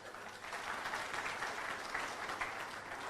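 An audience at a motivational success seminar claps steadily and evenly for about three seconds, a continuous wash of many hands that sounds faint and somewhat distant, with no speech over it.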